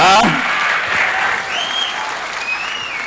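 An audience at a mimicry stage show bursts into loud applause that peaks at the start and then carries on steadily, with a few thin whistles rising above the clapping.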